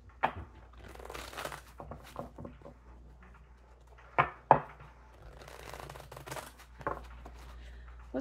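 Cards are shuffled in quick, crisp riffles and soft paper flutters, close by and fairly quiet, with occasional sharper snaps.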